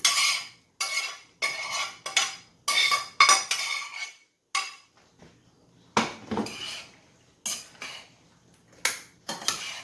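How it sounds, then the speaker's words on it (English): Spoon clattering and scraping in a pot while sauce is stirred into cooked pasta, a run of sharp metallic strokes in uneven bursts with short pauses between, close and fairly loud. "Give it that stir."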